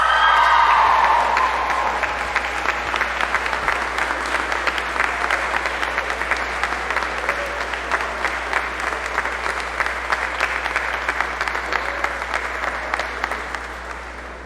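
Sustained applause from a college convocation audience honoring a sorority's scholarship award, dense clapping from a large crowd that starts strong and slowly fades over several seconds.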